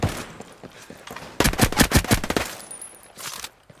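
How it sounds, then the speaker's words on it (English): Gunfire in Ghost Recon Breakpoint: a fast burst of automatic shots crackling loud and close for about a second, with scattered single shots before and after, no voices. "Hostiles are firing."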